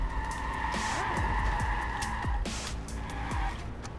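A car in the Watch Dogs video game races along with its engine droning, then skids with sharp tyre squeals that sweep down in pitch, while a steady high whine runs underneath.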